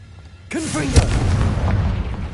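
A Confringo spell explosion from the Hogwarts Legacy video game: after a brief quiet, a sudden loud boom erupts with a short wavering cry-like tone on top, then a rumbling, crackling tail that sustains to the end.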